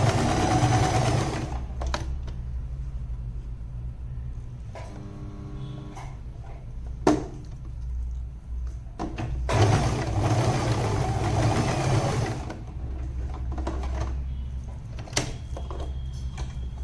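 A sewing machine top-stitches the gauntlet piece of a shirt placket in several runs of steady whirring stitching, separated by pauses, small clicks and a sharp knock, at moderate level with no talking.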